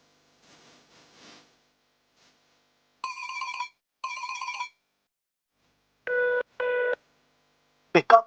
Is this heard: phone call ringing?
yes